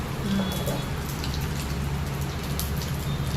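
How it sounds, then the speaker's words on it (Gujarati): Mustard seeds crackle and pop in hot oil, a steady spatter of quick, sharp little bursts over a low background hum. "હા રાઈ ફૂટવા માંડી"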